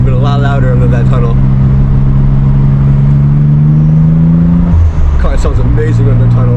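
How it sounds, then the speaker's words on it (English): A Nissan Z's engine drones loudly inside a tunnel, its steady tone slowly rising under acceleration before dropping at a gear change and climbing again. "Car sounds amazing under tunnels."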